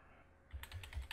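Computer keyboard typing, a brief run of quick, soft key clicks close by after a short quiet lead-in.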